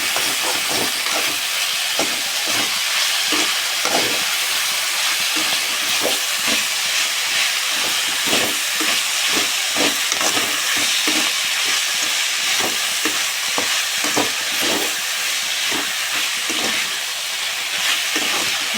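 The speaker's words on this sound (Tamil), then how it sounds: "போதும் போதும் அதை வதக்கலாம்" Pirandai stalks with rock salt are sautéed in a hot pan, producing a loud, unbroken steamy hiss and sizzle. Quick stirring scrapes and taps recur throughout, close up, with no talking.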